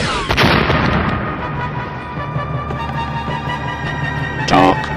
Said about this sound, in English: Prime the cannon.